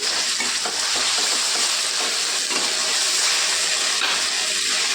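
Ginger garlic paste fries with cabbage in a pan for veg fried rice, a loud, dense, unbroken hiss and sizzle that holds steady throughout.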